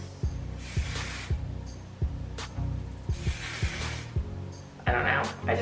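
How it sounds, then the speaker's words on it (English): Several short hissing bursts of an aerosol hairspray sprayed upward onto short hair, separated by pauses, with soft handling clicks in between. "So I will just lift my hair and spray each little section with it."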